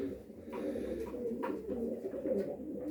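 White pigeons coo softly in low repeated bursts, close by, with a faint rustle underneath and no talking.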